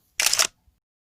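A phone camera shutter clicks once for a close-up macro photo: a single short, sharp burst of crisp shutter sound, close and clear, followed by a faint tiny tick.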